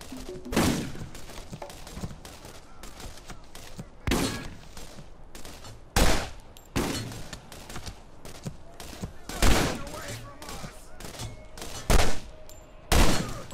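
Shotgun blasts in the shooter video game Borderlands 2 boom out as loud single shots spaced a couple of seconds apart, over quieter background game sound and faint speech.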